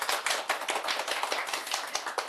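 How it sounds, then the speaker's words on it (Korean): Audience claps for a priest after a Bible lecture on the Book of Revelation, a brisk, fairly close round of hand-clapping with no voices over it. "신부님께 큰 박수 부탁드리겠습니다"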